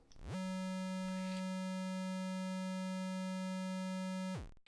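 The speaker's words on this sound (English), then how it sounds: "These channels produce square waves that sound like this." A buzzy, harmonic-rich square wave tone from a Game Boy pulse channel sounds steadily for about four seconds alone, starting and stopping abruptly.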